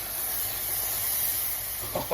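Cream is poured into hot caramel on a stovetop, setting off a steady, moderately loud hiss of steam that lasts throughout and ends with a couple of brief clattering sounds.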